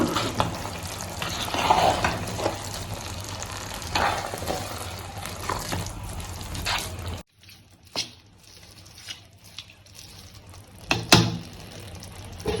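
Ambur mutton biryani stirred in its pot, soft scraping and wet squishing over faint sizzle, louder at first, then quieter after the burner noise drops away, with occasional clinks near the end.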